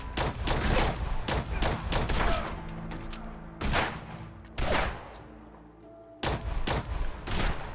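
A plasma rifle fires in Fallout 4, with rapid clusters of loud, punchy discharges separated by short pauses and a faint background hum.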